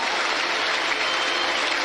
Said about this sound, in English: Taking the applause around Turf Moor